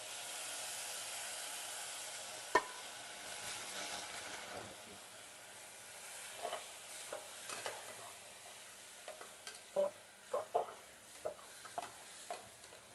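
Quiet stirring in a pan of dal khichdi with rice and red chili powder, a faint steady sizzle with scattered scraping taps of the spoon growing more frequent toward the end.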